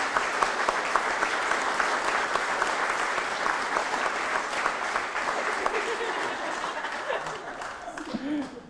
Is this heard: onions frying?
no